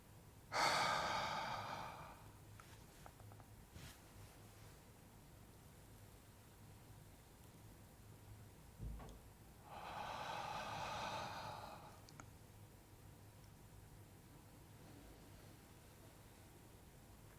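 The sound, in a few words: breathing exercise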